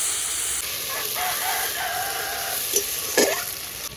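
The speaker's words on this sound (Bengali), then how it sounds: "ফোড়নের মধ্যে আমি আদা প্রথমে দিয়ে দিচ্ছি, টমেটো পেস্টটা দিয়ে দিচ্ছি।" Ginger and tomato paste fry in a spice tempering for a parshe fish curry, giving a loud, steady close sizzle with stirring scrapes. A rooster seems to crow faintly in the background, and no one speaks.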